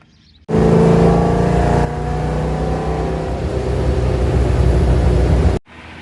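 An old Ford Mustang engine, running for the first time in a while, roars loudly and steadily nearby, starting abruptly and holding a rough, sustained drone with a slight drop partway before cutting off.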